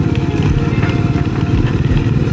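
A small-bore motorcycle engine droning steadily while riding along a road, loud and close, with a continuous throbbing exhaust note and no talk.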